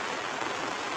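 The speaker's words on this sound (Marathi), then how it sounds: "काय पाऊस वाढलाय बाबा हो." Heavy rain pours down in a village, a dense even hiss of falling water with no breaks, steady and moderately loud, no voices.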